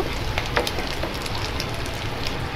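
Oil and a teaspoon of dried chili powder sizzle in a pan beside beef for a Bangladeshi-style chili beef, a steady, close, crackling hiss with no voices.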